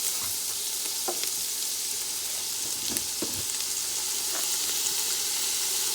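Vegetables for fried rice with fresh ginger sizzle loudly and steadily in a pan, with a few scattered scraping stir strokes over the constant hiss, close up and with no talking.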